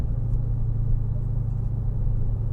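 A 2022 Dodge Challenger R/T Scat Pack with the 392 engine in sport mode, heard from inside as a steady, loud low rumble at cruising pace, with no clear revving or shifts.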